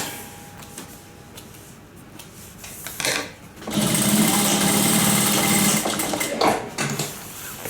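A sewing machine stitching hippie-van fabric runs in a couple of short bursts, then a sustained whirring run of a few seconds close by before slowing.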